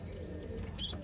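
Madrasi pigeons coo and chirp faintly over a low background rumble, with a thin high call drawn out near the middle and no one speaking.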